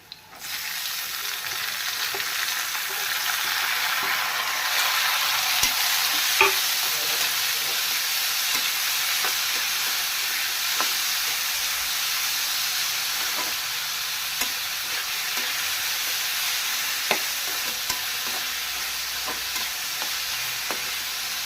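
Tomatoes fry in hot oil in a pan while being stirred, giving a steady close sizzle across the whole stretch with scattered scraping and clinking of the spoon, and no talking.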